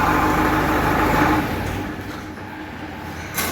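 A nearby tractor engine gives a loud, steady rumble that eases off and fades somewhat before a short bump at the end, with no voices.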